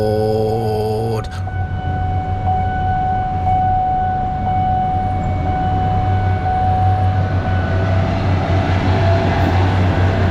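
Thai third-class diesel train CP3420 pulls away from Hualampong Station in Bangkok, bound for Chachoengsao, a loud steady low engine drone with a sustained horn-like tone, continuous and close throughout.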